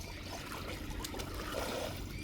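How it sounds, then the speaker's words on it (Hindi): A person plays and splashes in the water of a farm canal running between fields, a soft continuous trickling and sloshing with no clear individual splashes, steady and moderately close. "ये देखिए सुशील बहुत ही बढ़िया मस्ती कर रहा है पानी में।"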